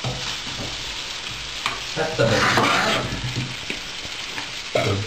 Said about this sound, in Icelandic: nú setjum við pastað aftur í pottinn